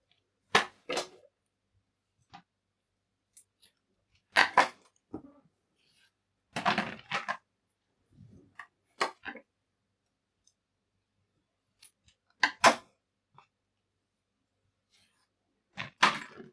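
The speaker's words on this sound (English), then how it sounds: "Snip those off." Scissors snip through ribbon for a homemade lampshade, a series of sharp close clicks in small clusters separated by quiet pauses.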